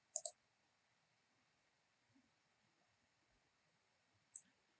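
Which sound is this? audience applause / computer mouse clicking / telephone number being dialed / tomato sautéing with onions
computer mouse clicking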